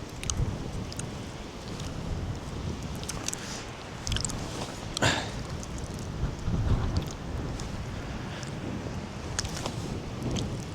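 Strong storm wind buffeting outdoors while fishing for chub on the Šventoji river, a continuous rough roar with gusty bursts and occasional thumps, close to the microphone.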